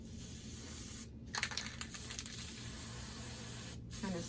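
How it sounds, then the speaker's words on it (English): Clear sealant sprayed from an aerosol can onto a rose boutonnière, a faint hissing spray in a couple of short bursts against quiet room background. "I'm going to spray this with the clear light."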